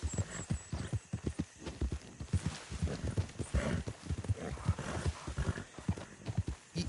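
A horse's hooves clip-clop steadily at a walking pace in the Red Dead Redemption 2 video game, with close, rhythmic thuds and a faint whinny-like tone above them.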